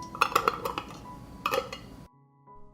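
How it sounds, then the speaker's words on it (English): Glass jars and metal lids clink and clatter inside a cloth-lined cooking pot in a run of sharp knocks, followed by a pause and then a faint hum. "I will cover the jars with lids."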